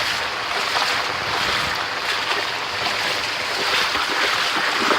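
Floodwater from Hurricane Harvey flowing down a road, a steady broadband rushing wash with wind buffeting the microphone throughout, continuous and fairly close.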